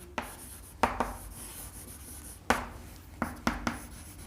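Chalk or marker strokes write an equation on a board: several short, distinct scratches and taps come in uneven bursts, close and fairly quiet, with no voice.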